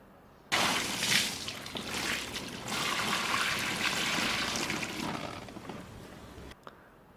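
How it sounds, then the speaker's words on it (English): Water pours onto a sheet of plastic to form an arc lens, a continuous splashing trickle for about six seconds that starts and stops abruptly, close and fairly loud, with no speech. "The way this works is by simply adding water onto a sheet of plastic."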